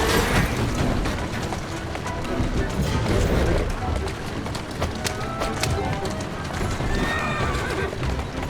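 A horse in Assassin's Creed Syndicate whinnies loudly while hooves clip-clop steadily close by, with a busy background of game sounds throughout.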